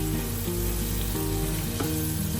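Chilli chicken with spring onion and soy sauce sautés in a pan, giving a loud, dense, close sizzle that stays constant throughout, with faint stirring bumps.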